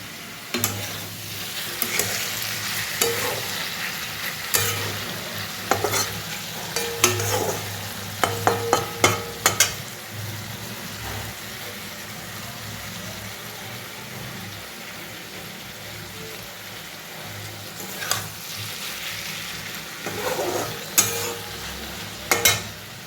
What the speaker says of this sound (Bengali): আমার পেঁপে ভাজা অলমোস্ট কমপ্লিট